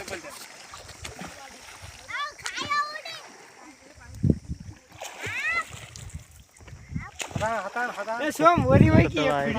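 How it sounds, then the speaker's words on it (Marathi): Water splashes repeatedly as children play and swim in a pond, their excited voices and shouts mixed in, loud and close. "लहान मुलं पोहण्याचा आनंद घेत आहेत"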